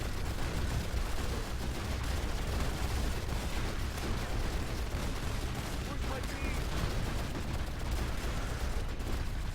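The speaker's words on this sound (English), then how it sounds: "I'm just opening fire on the command center." Dense, rapid gunfire from units attacking a command center in the Rise of the Reds real-time strategy game, a continuous crackling barrage of shots and impacts at steady volume.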